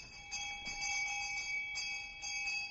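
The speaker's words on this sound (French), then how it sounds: "je fus réveillé en sursaut par une cloche agitée dans le salon." A hand bell rings in a parlour, a thin steady metallic tone sounding continuously for a few seconds with slight pulses, fairly faint.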